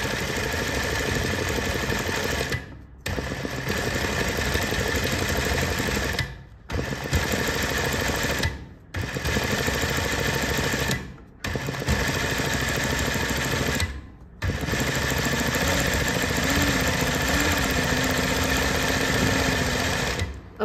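An electric sewing machine stitches badla embroidery filling a flower outline, running in long loud steady bursts with a high whine, stopping briefly about five times, with no talking.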